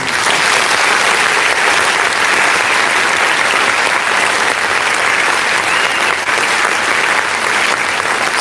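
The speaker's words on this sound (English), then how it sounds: "Let's go ahead and clap." An audience claps steadily and loudly throughout, a dense continuous wash of applause with no breaks.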